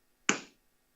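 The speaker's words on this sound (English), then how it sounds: "you can either hit your hand on your chest like this" A hand strikes a chest once, close and crisp, a single short slap that fades quickly into silence.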